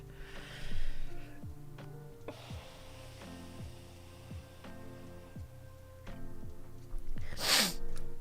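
A few close sniffs from a person with a cold and a sharp nasal snort near the end, with quiet clicking and handling noises in between.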